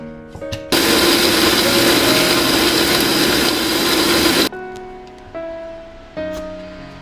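A countertop blender whirs loudly for about four seconds, blending a fruit smoothie of berries, flax seeds, almond milk and coconut water, with brief clatter and a few tonal beeps or taps before and after.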